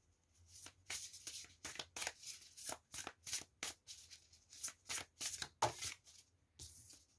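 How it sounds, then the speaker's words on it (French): Oracle cards are pulled from a deck and shuffled in quick succession, producing a steady run of crisp, soft paper flicks and riffles close by and at low volume, with no talk. "on va tirer 2-3 cartes"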